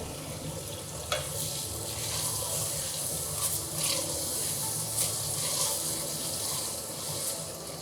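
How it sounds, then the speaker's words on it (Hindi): Mutton and purslane curry fries in a pan with a steady, close sizzle and hiss that continues without a break, along with faint stirring sounds. "अच्छे से हम इसको भून लेंगे, रोगन ऊपर आ जाए और गोश्त भुन जाए"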